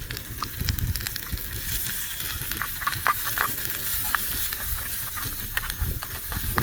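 Chilli and turmeric powder with salt fry in a tiny pan on a miniature kitchen stove, giving a steady soft hiss with scattered light crackles and ticks throughout, no voices.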